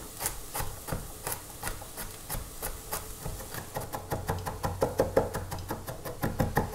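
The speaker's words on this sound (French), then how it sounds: "On va venir hacher l'ail." Garlic cloves chopped with a knife on a cutting board, a steady run of sharp, close knocks that quicken toward the end, with no talk.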